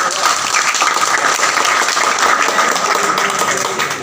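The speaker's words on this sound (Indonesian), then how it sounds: "Beri tepuk tangan." A dense, steady burst of applause from a sizable crowd at a school safety-riding event, loud and continuous throughout.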